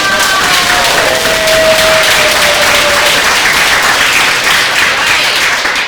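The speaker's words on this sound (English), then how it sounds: "channel that joy and that love through lots of clapping, lots of cheering on for these amazing people who are Chinatown" Audience at a New York Chinatown launch event breaking into sustained clapping and cheering, a dense, loud wash of applause that holds steady throughout with voices whooping inside it.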